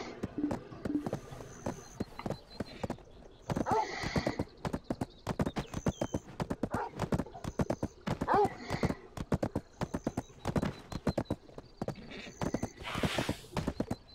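Horse hooves clip-clop in a steady, rapid rhythm in the Black Desert Online video game, broken by several whinnies and neighs, with game effects chiming faintly in the background.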